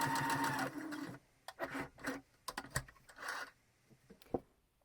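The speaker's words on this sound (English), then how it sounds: "Before I start to sew the other sleeve hem, I need to measure my stitch length so that they match." A sewing machine stitches a shirt sleeve hem in short bursts, its quick, even needle chatter starting and stopping between brief pauses, fairly close and quiet.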